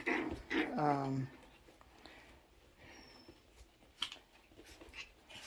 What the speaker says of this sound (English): I have my puppy, Sheba, calling me in the background.